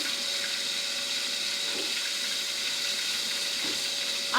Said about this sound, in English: let me wash my hands again. So I got flour on my hands.